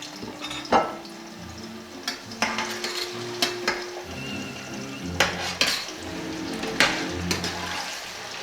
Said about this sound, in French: nous allons mettre à feu doux l'andouillette dans la poêle à frire